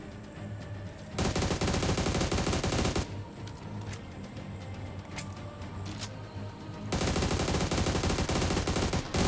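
Gunfire in the BGMI battle royale video game comes in two long, rapid automatic bursts separated by a few seconds of quieter, scattered shots and game ambience.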